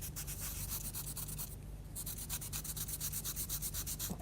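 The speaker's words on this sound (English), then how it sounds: "you just give it a rub over the sandpaper" Close, quiet, steady back-and-forth rubbing of an object over a sandpaper block to clean it, a rhythmic scratchy stroke repeated many times with one short pause.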